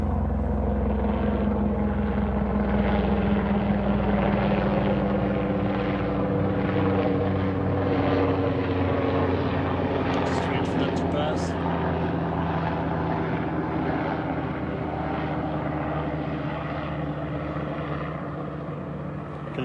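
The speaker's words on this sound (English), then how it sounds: "And you can hear that's a helicopter passing over." A helicopter's rotor and engine drone steadily overhead, a broad continuous roar that slowly fades toward the end.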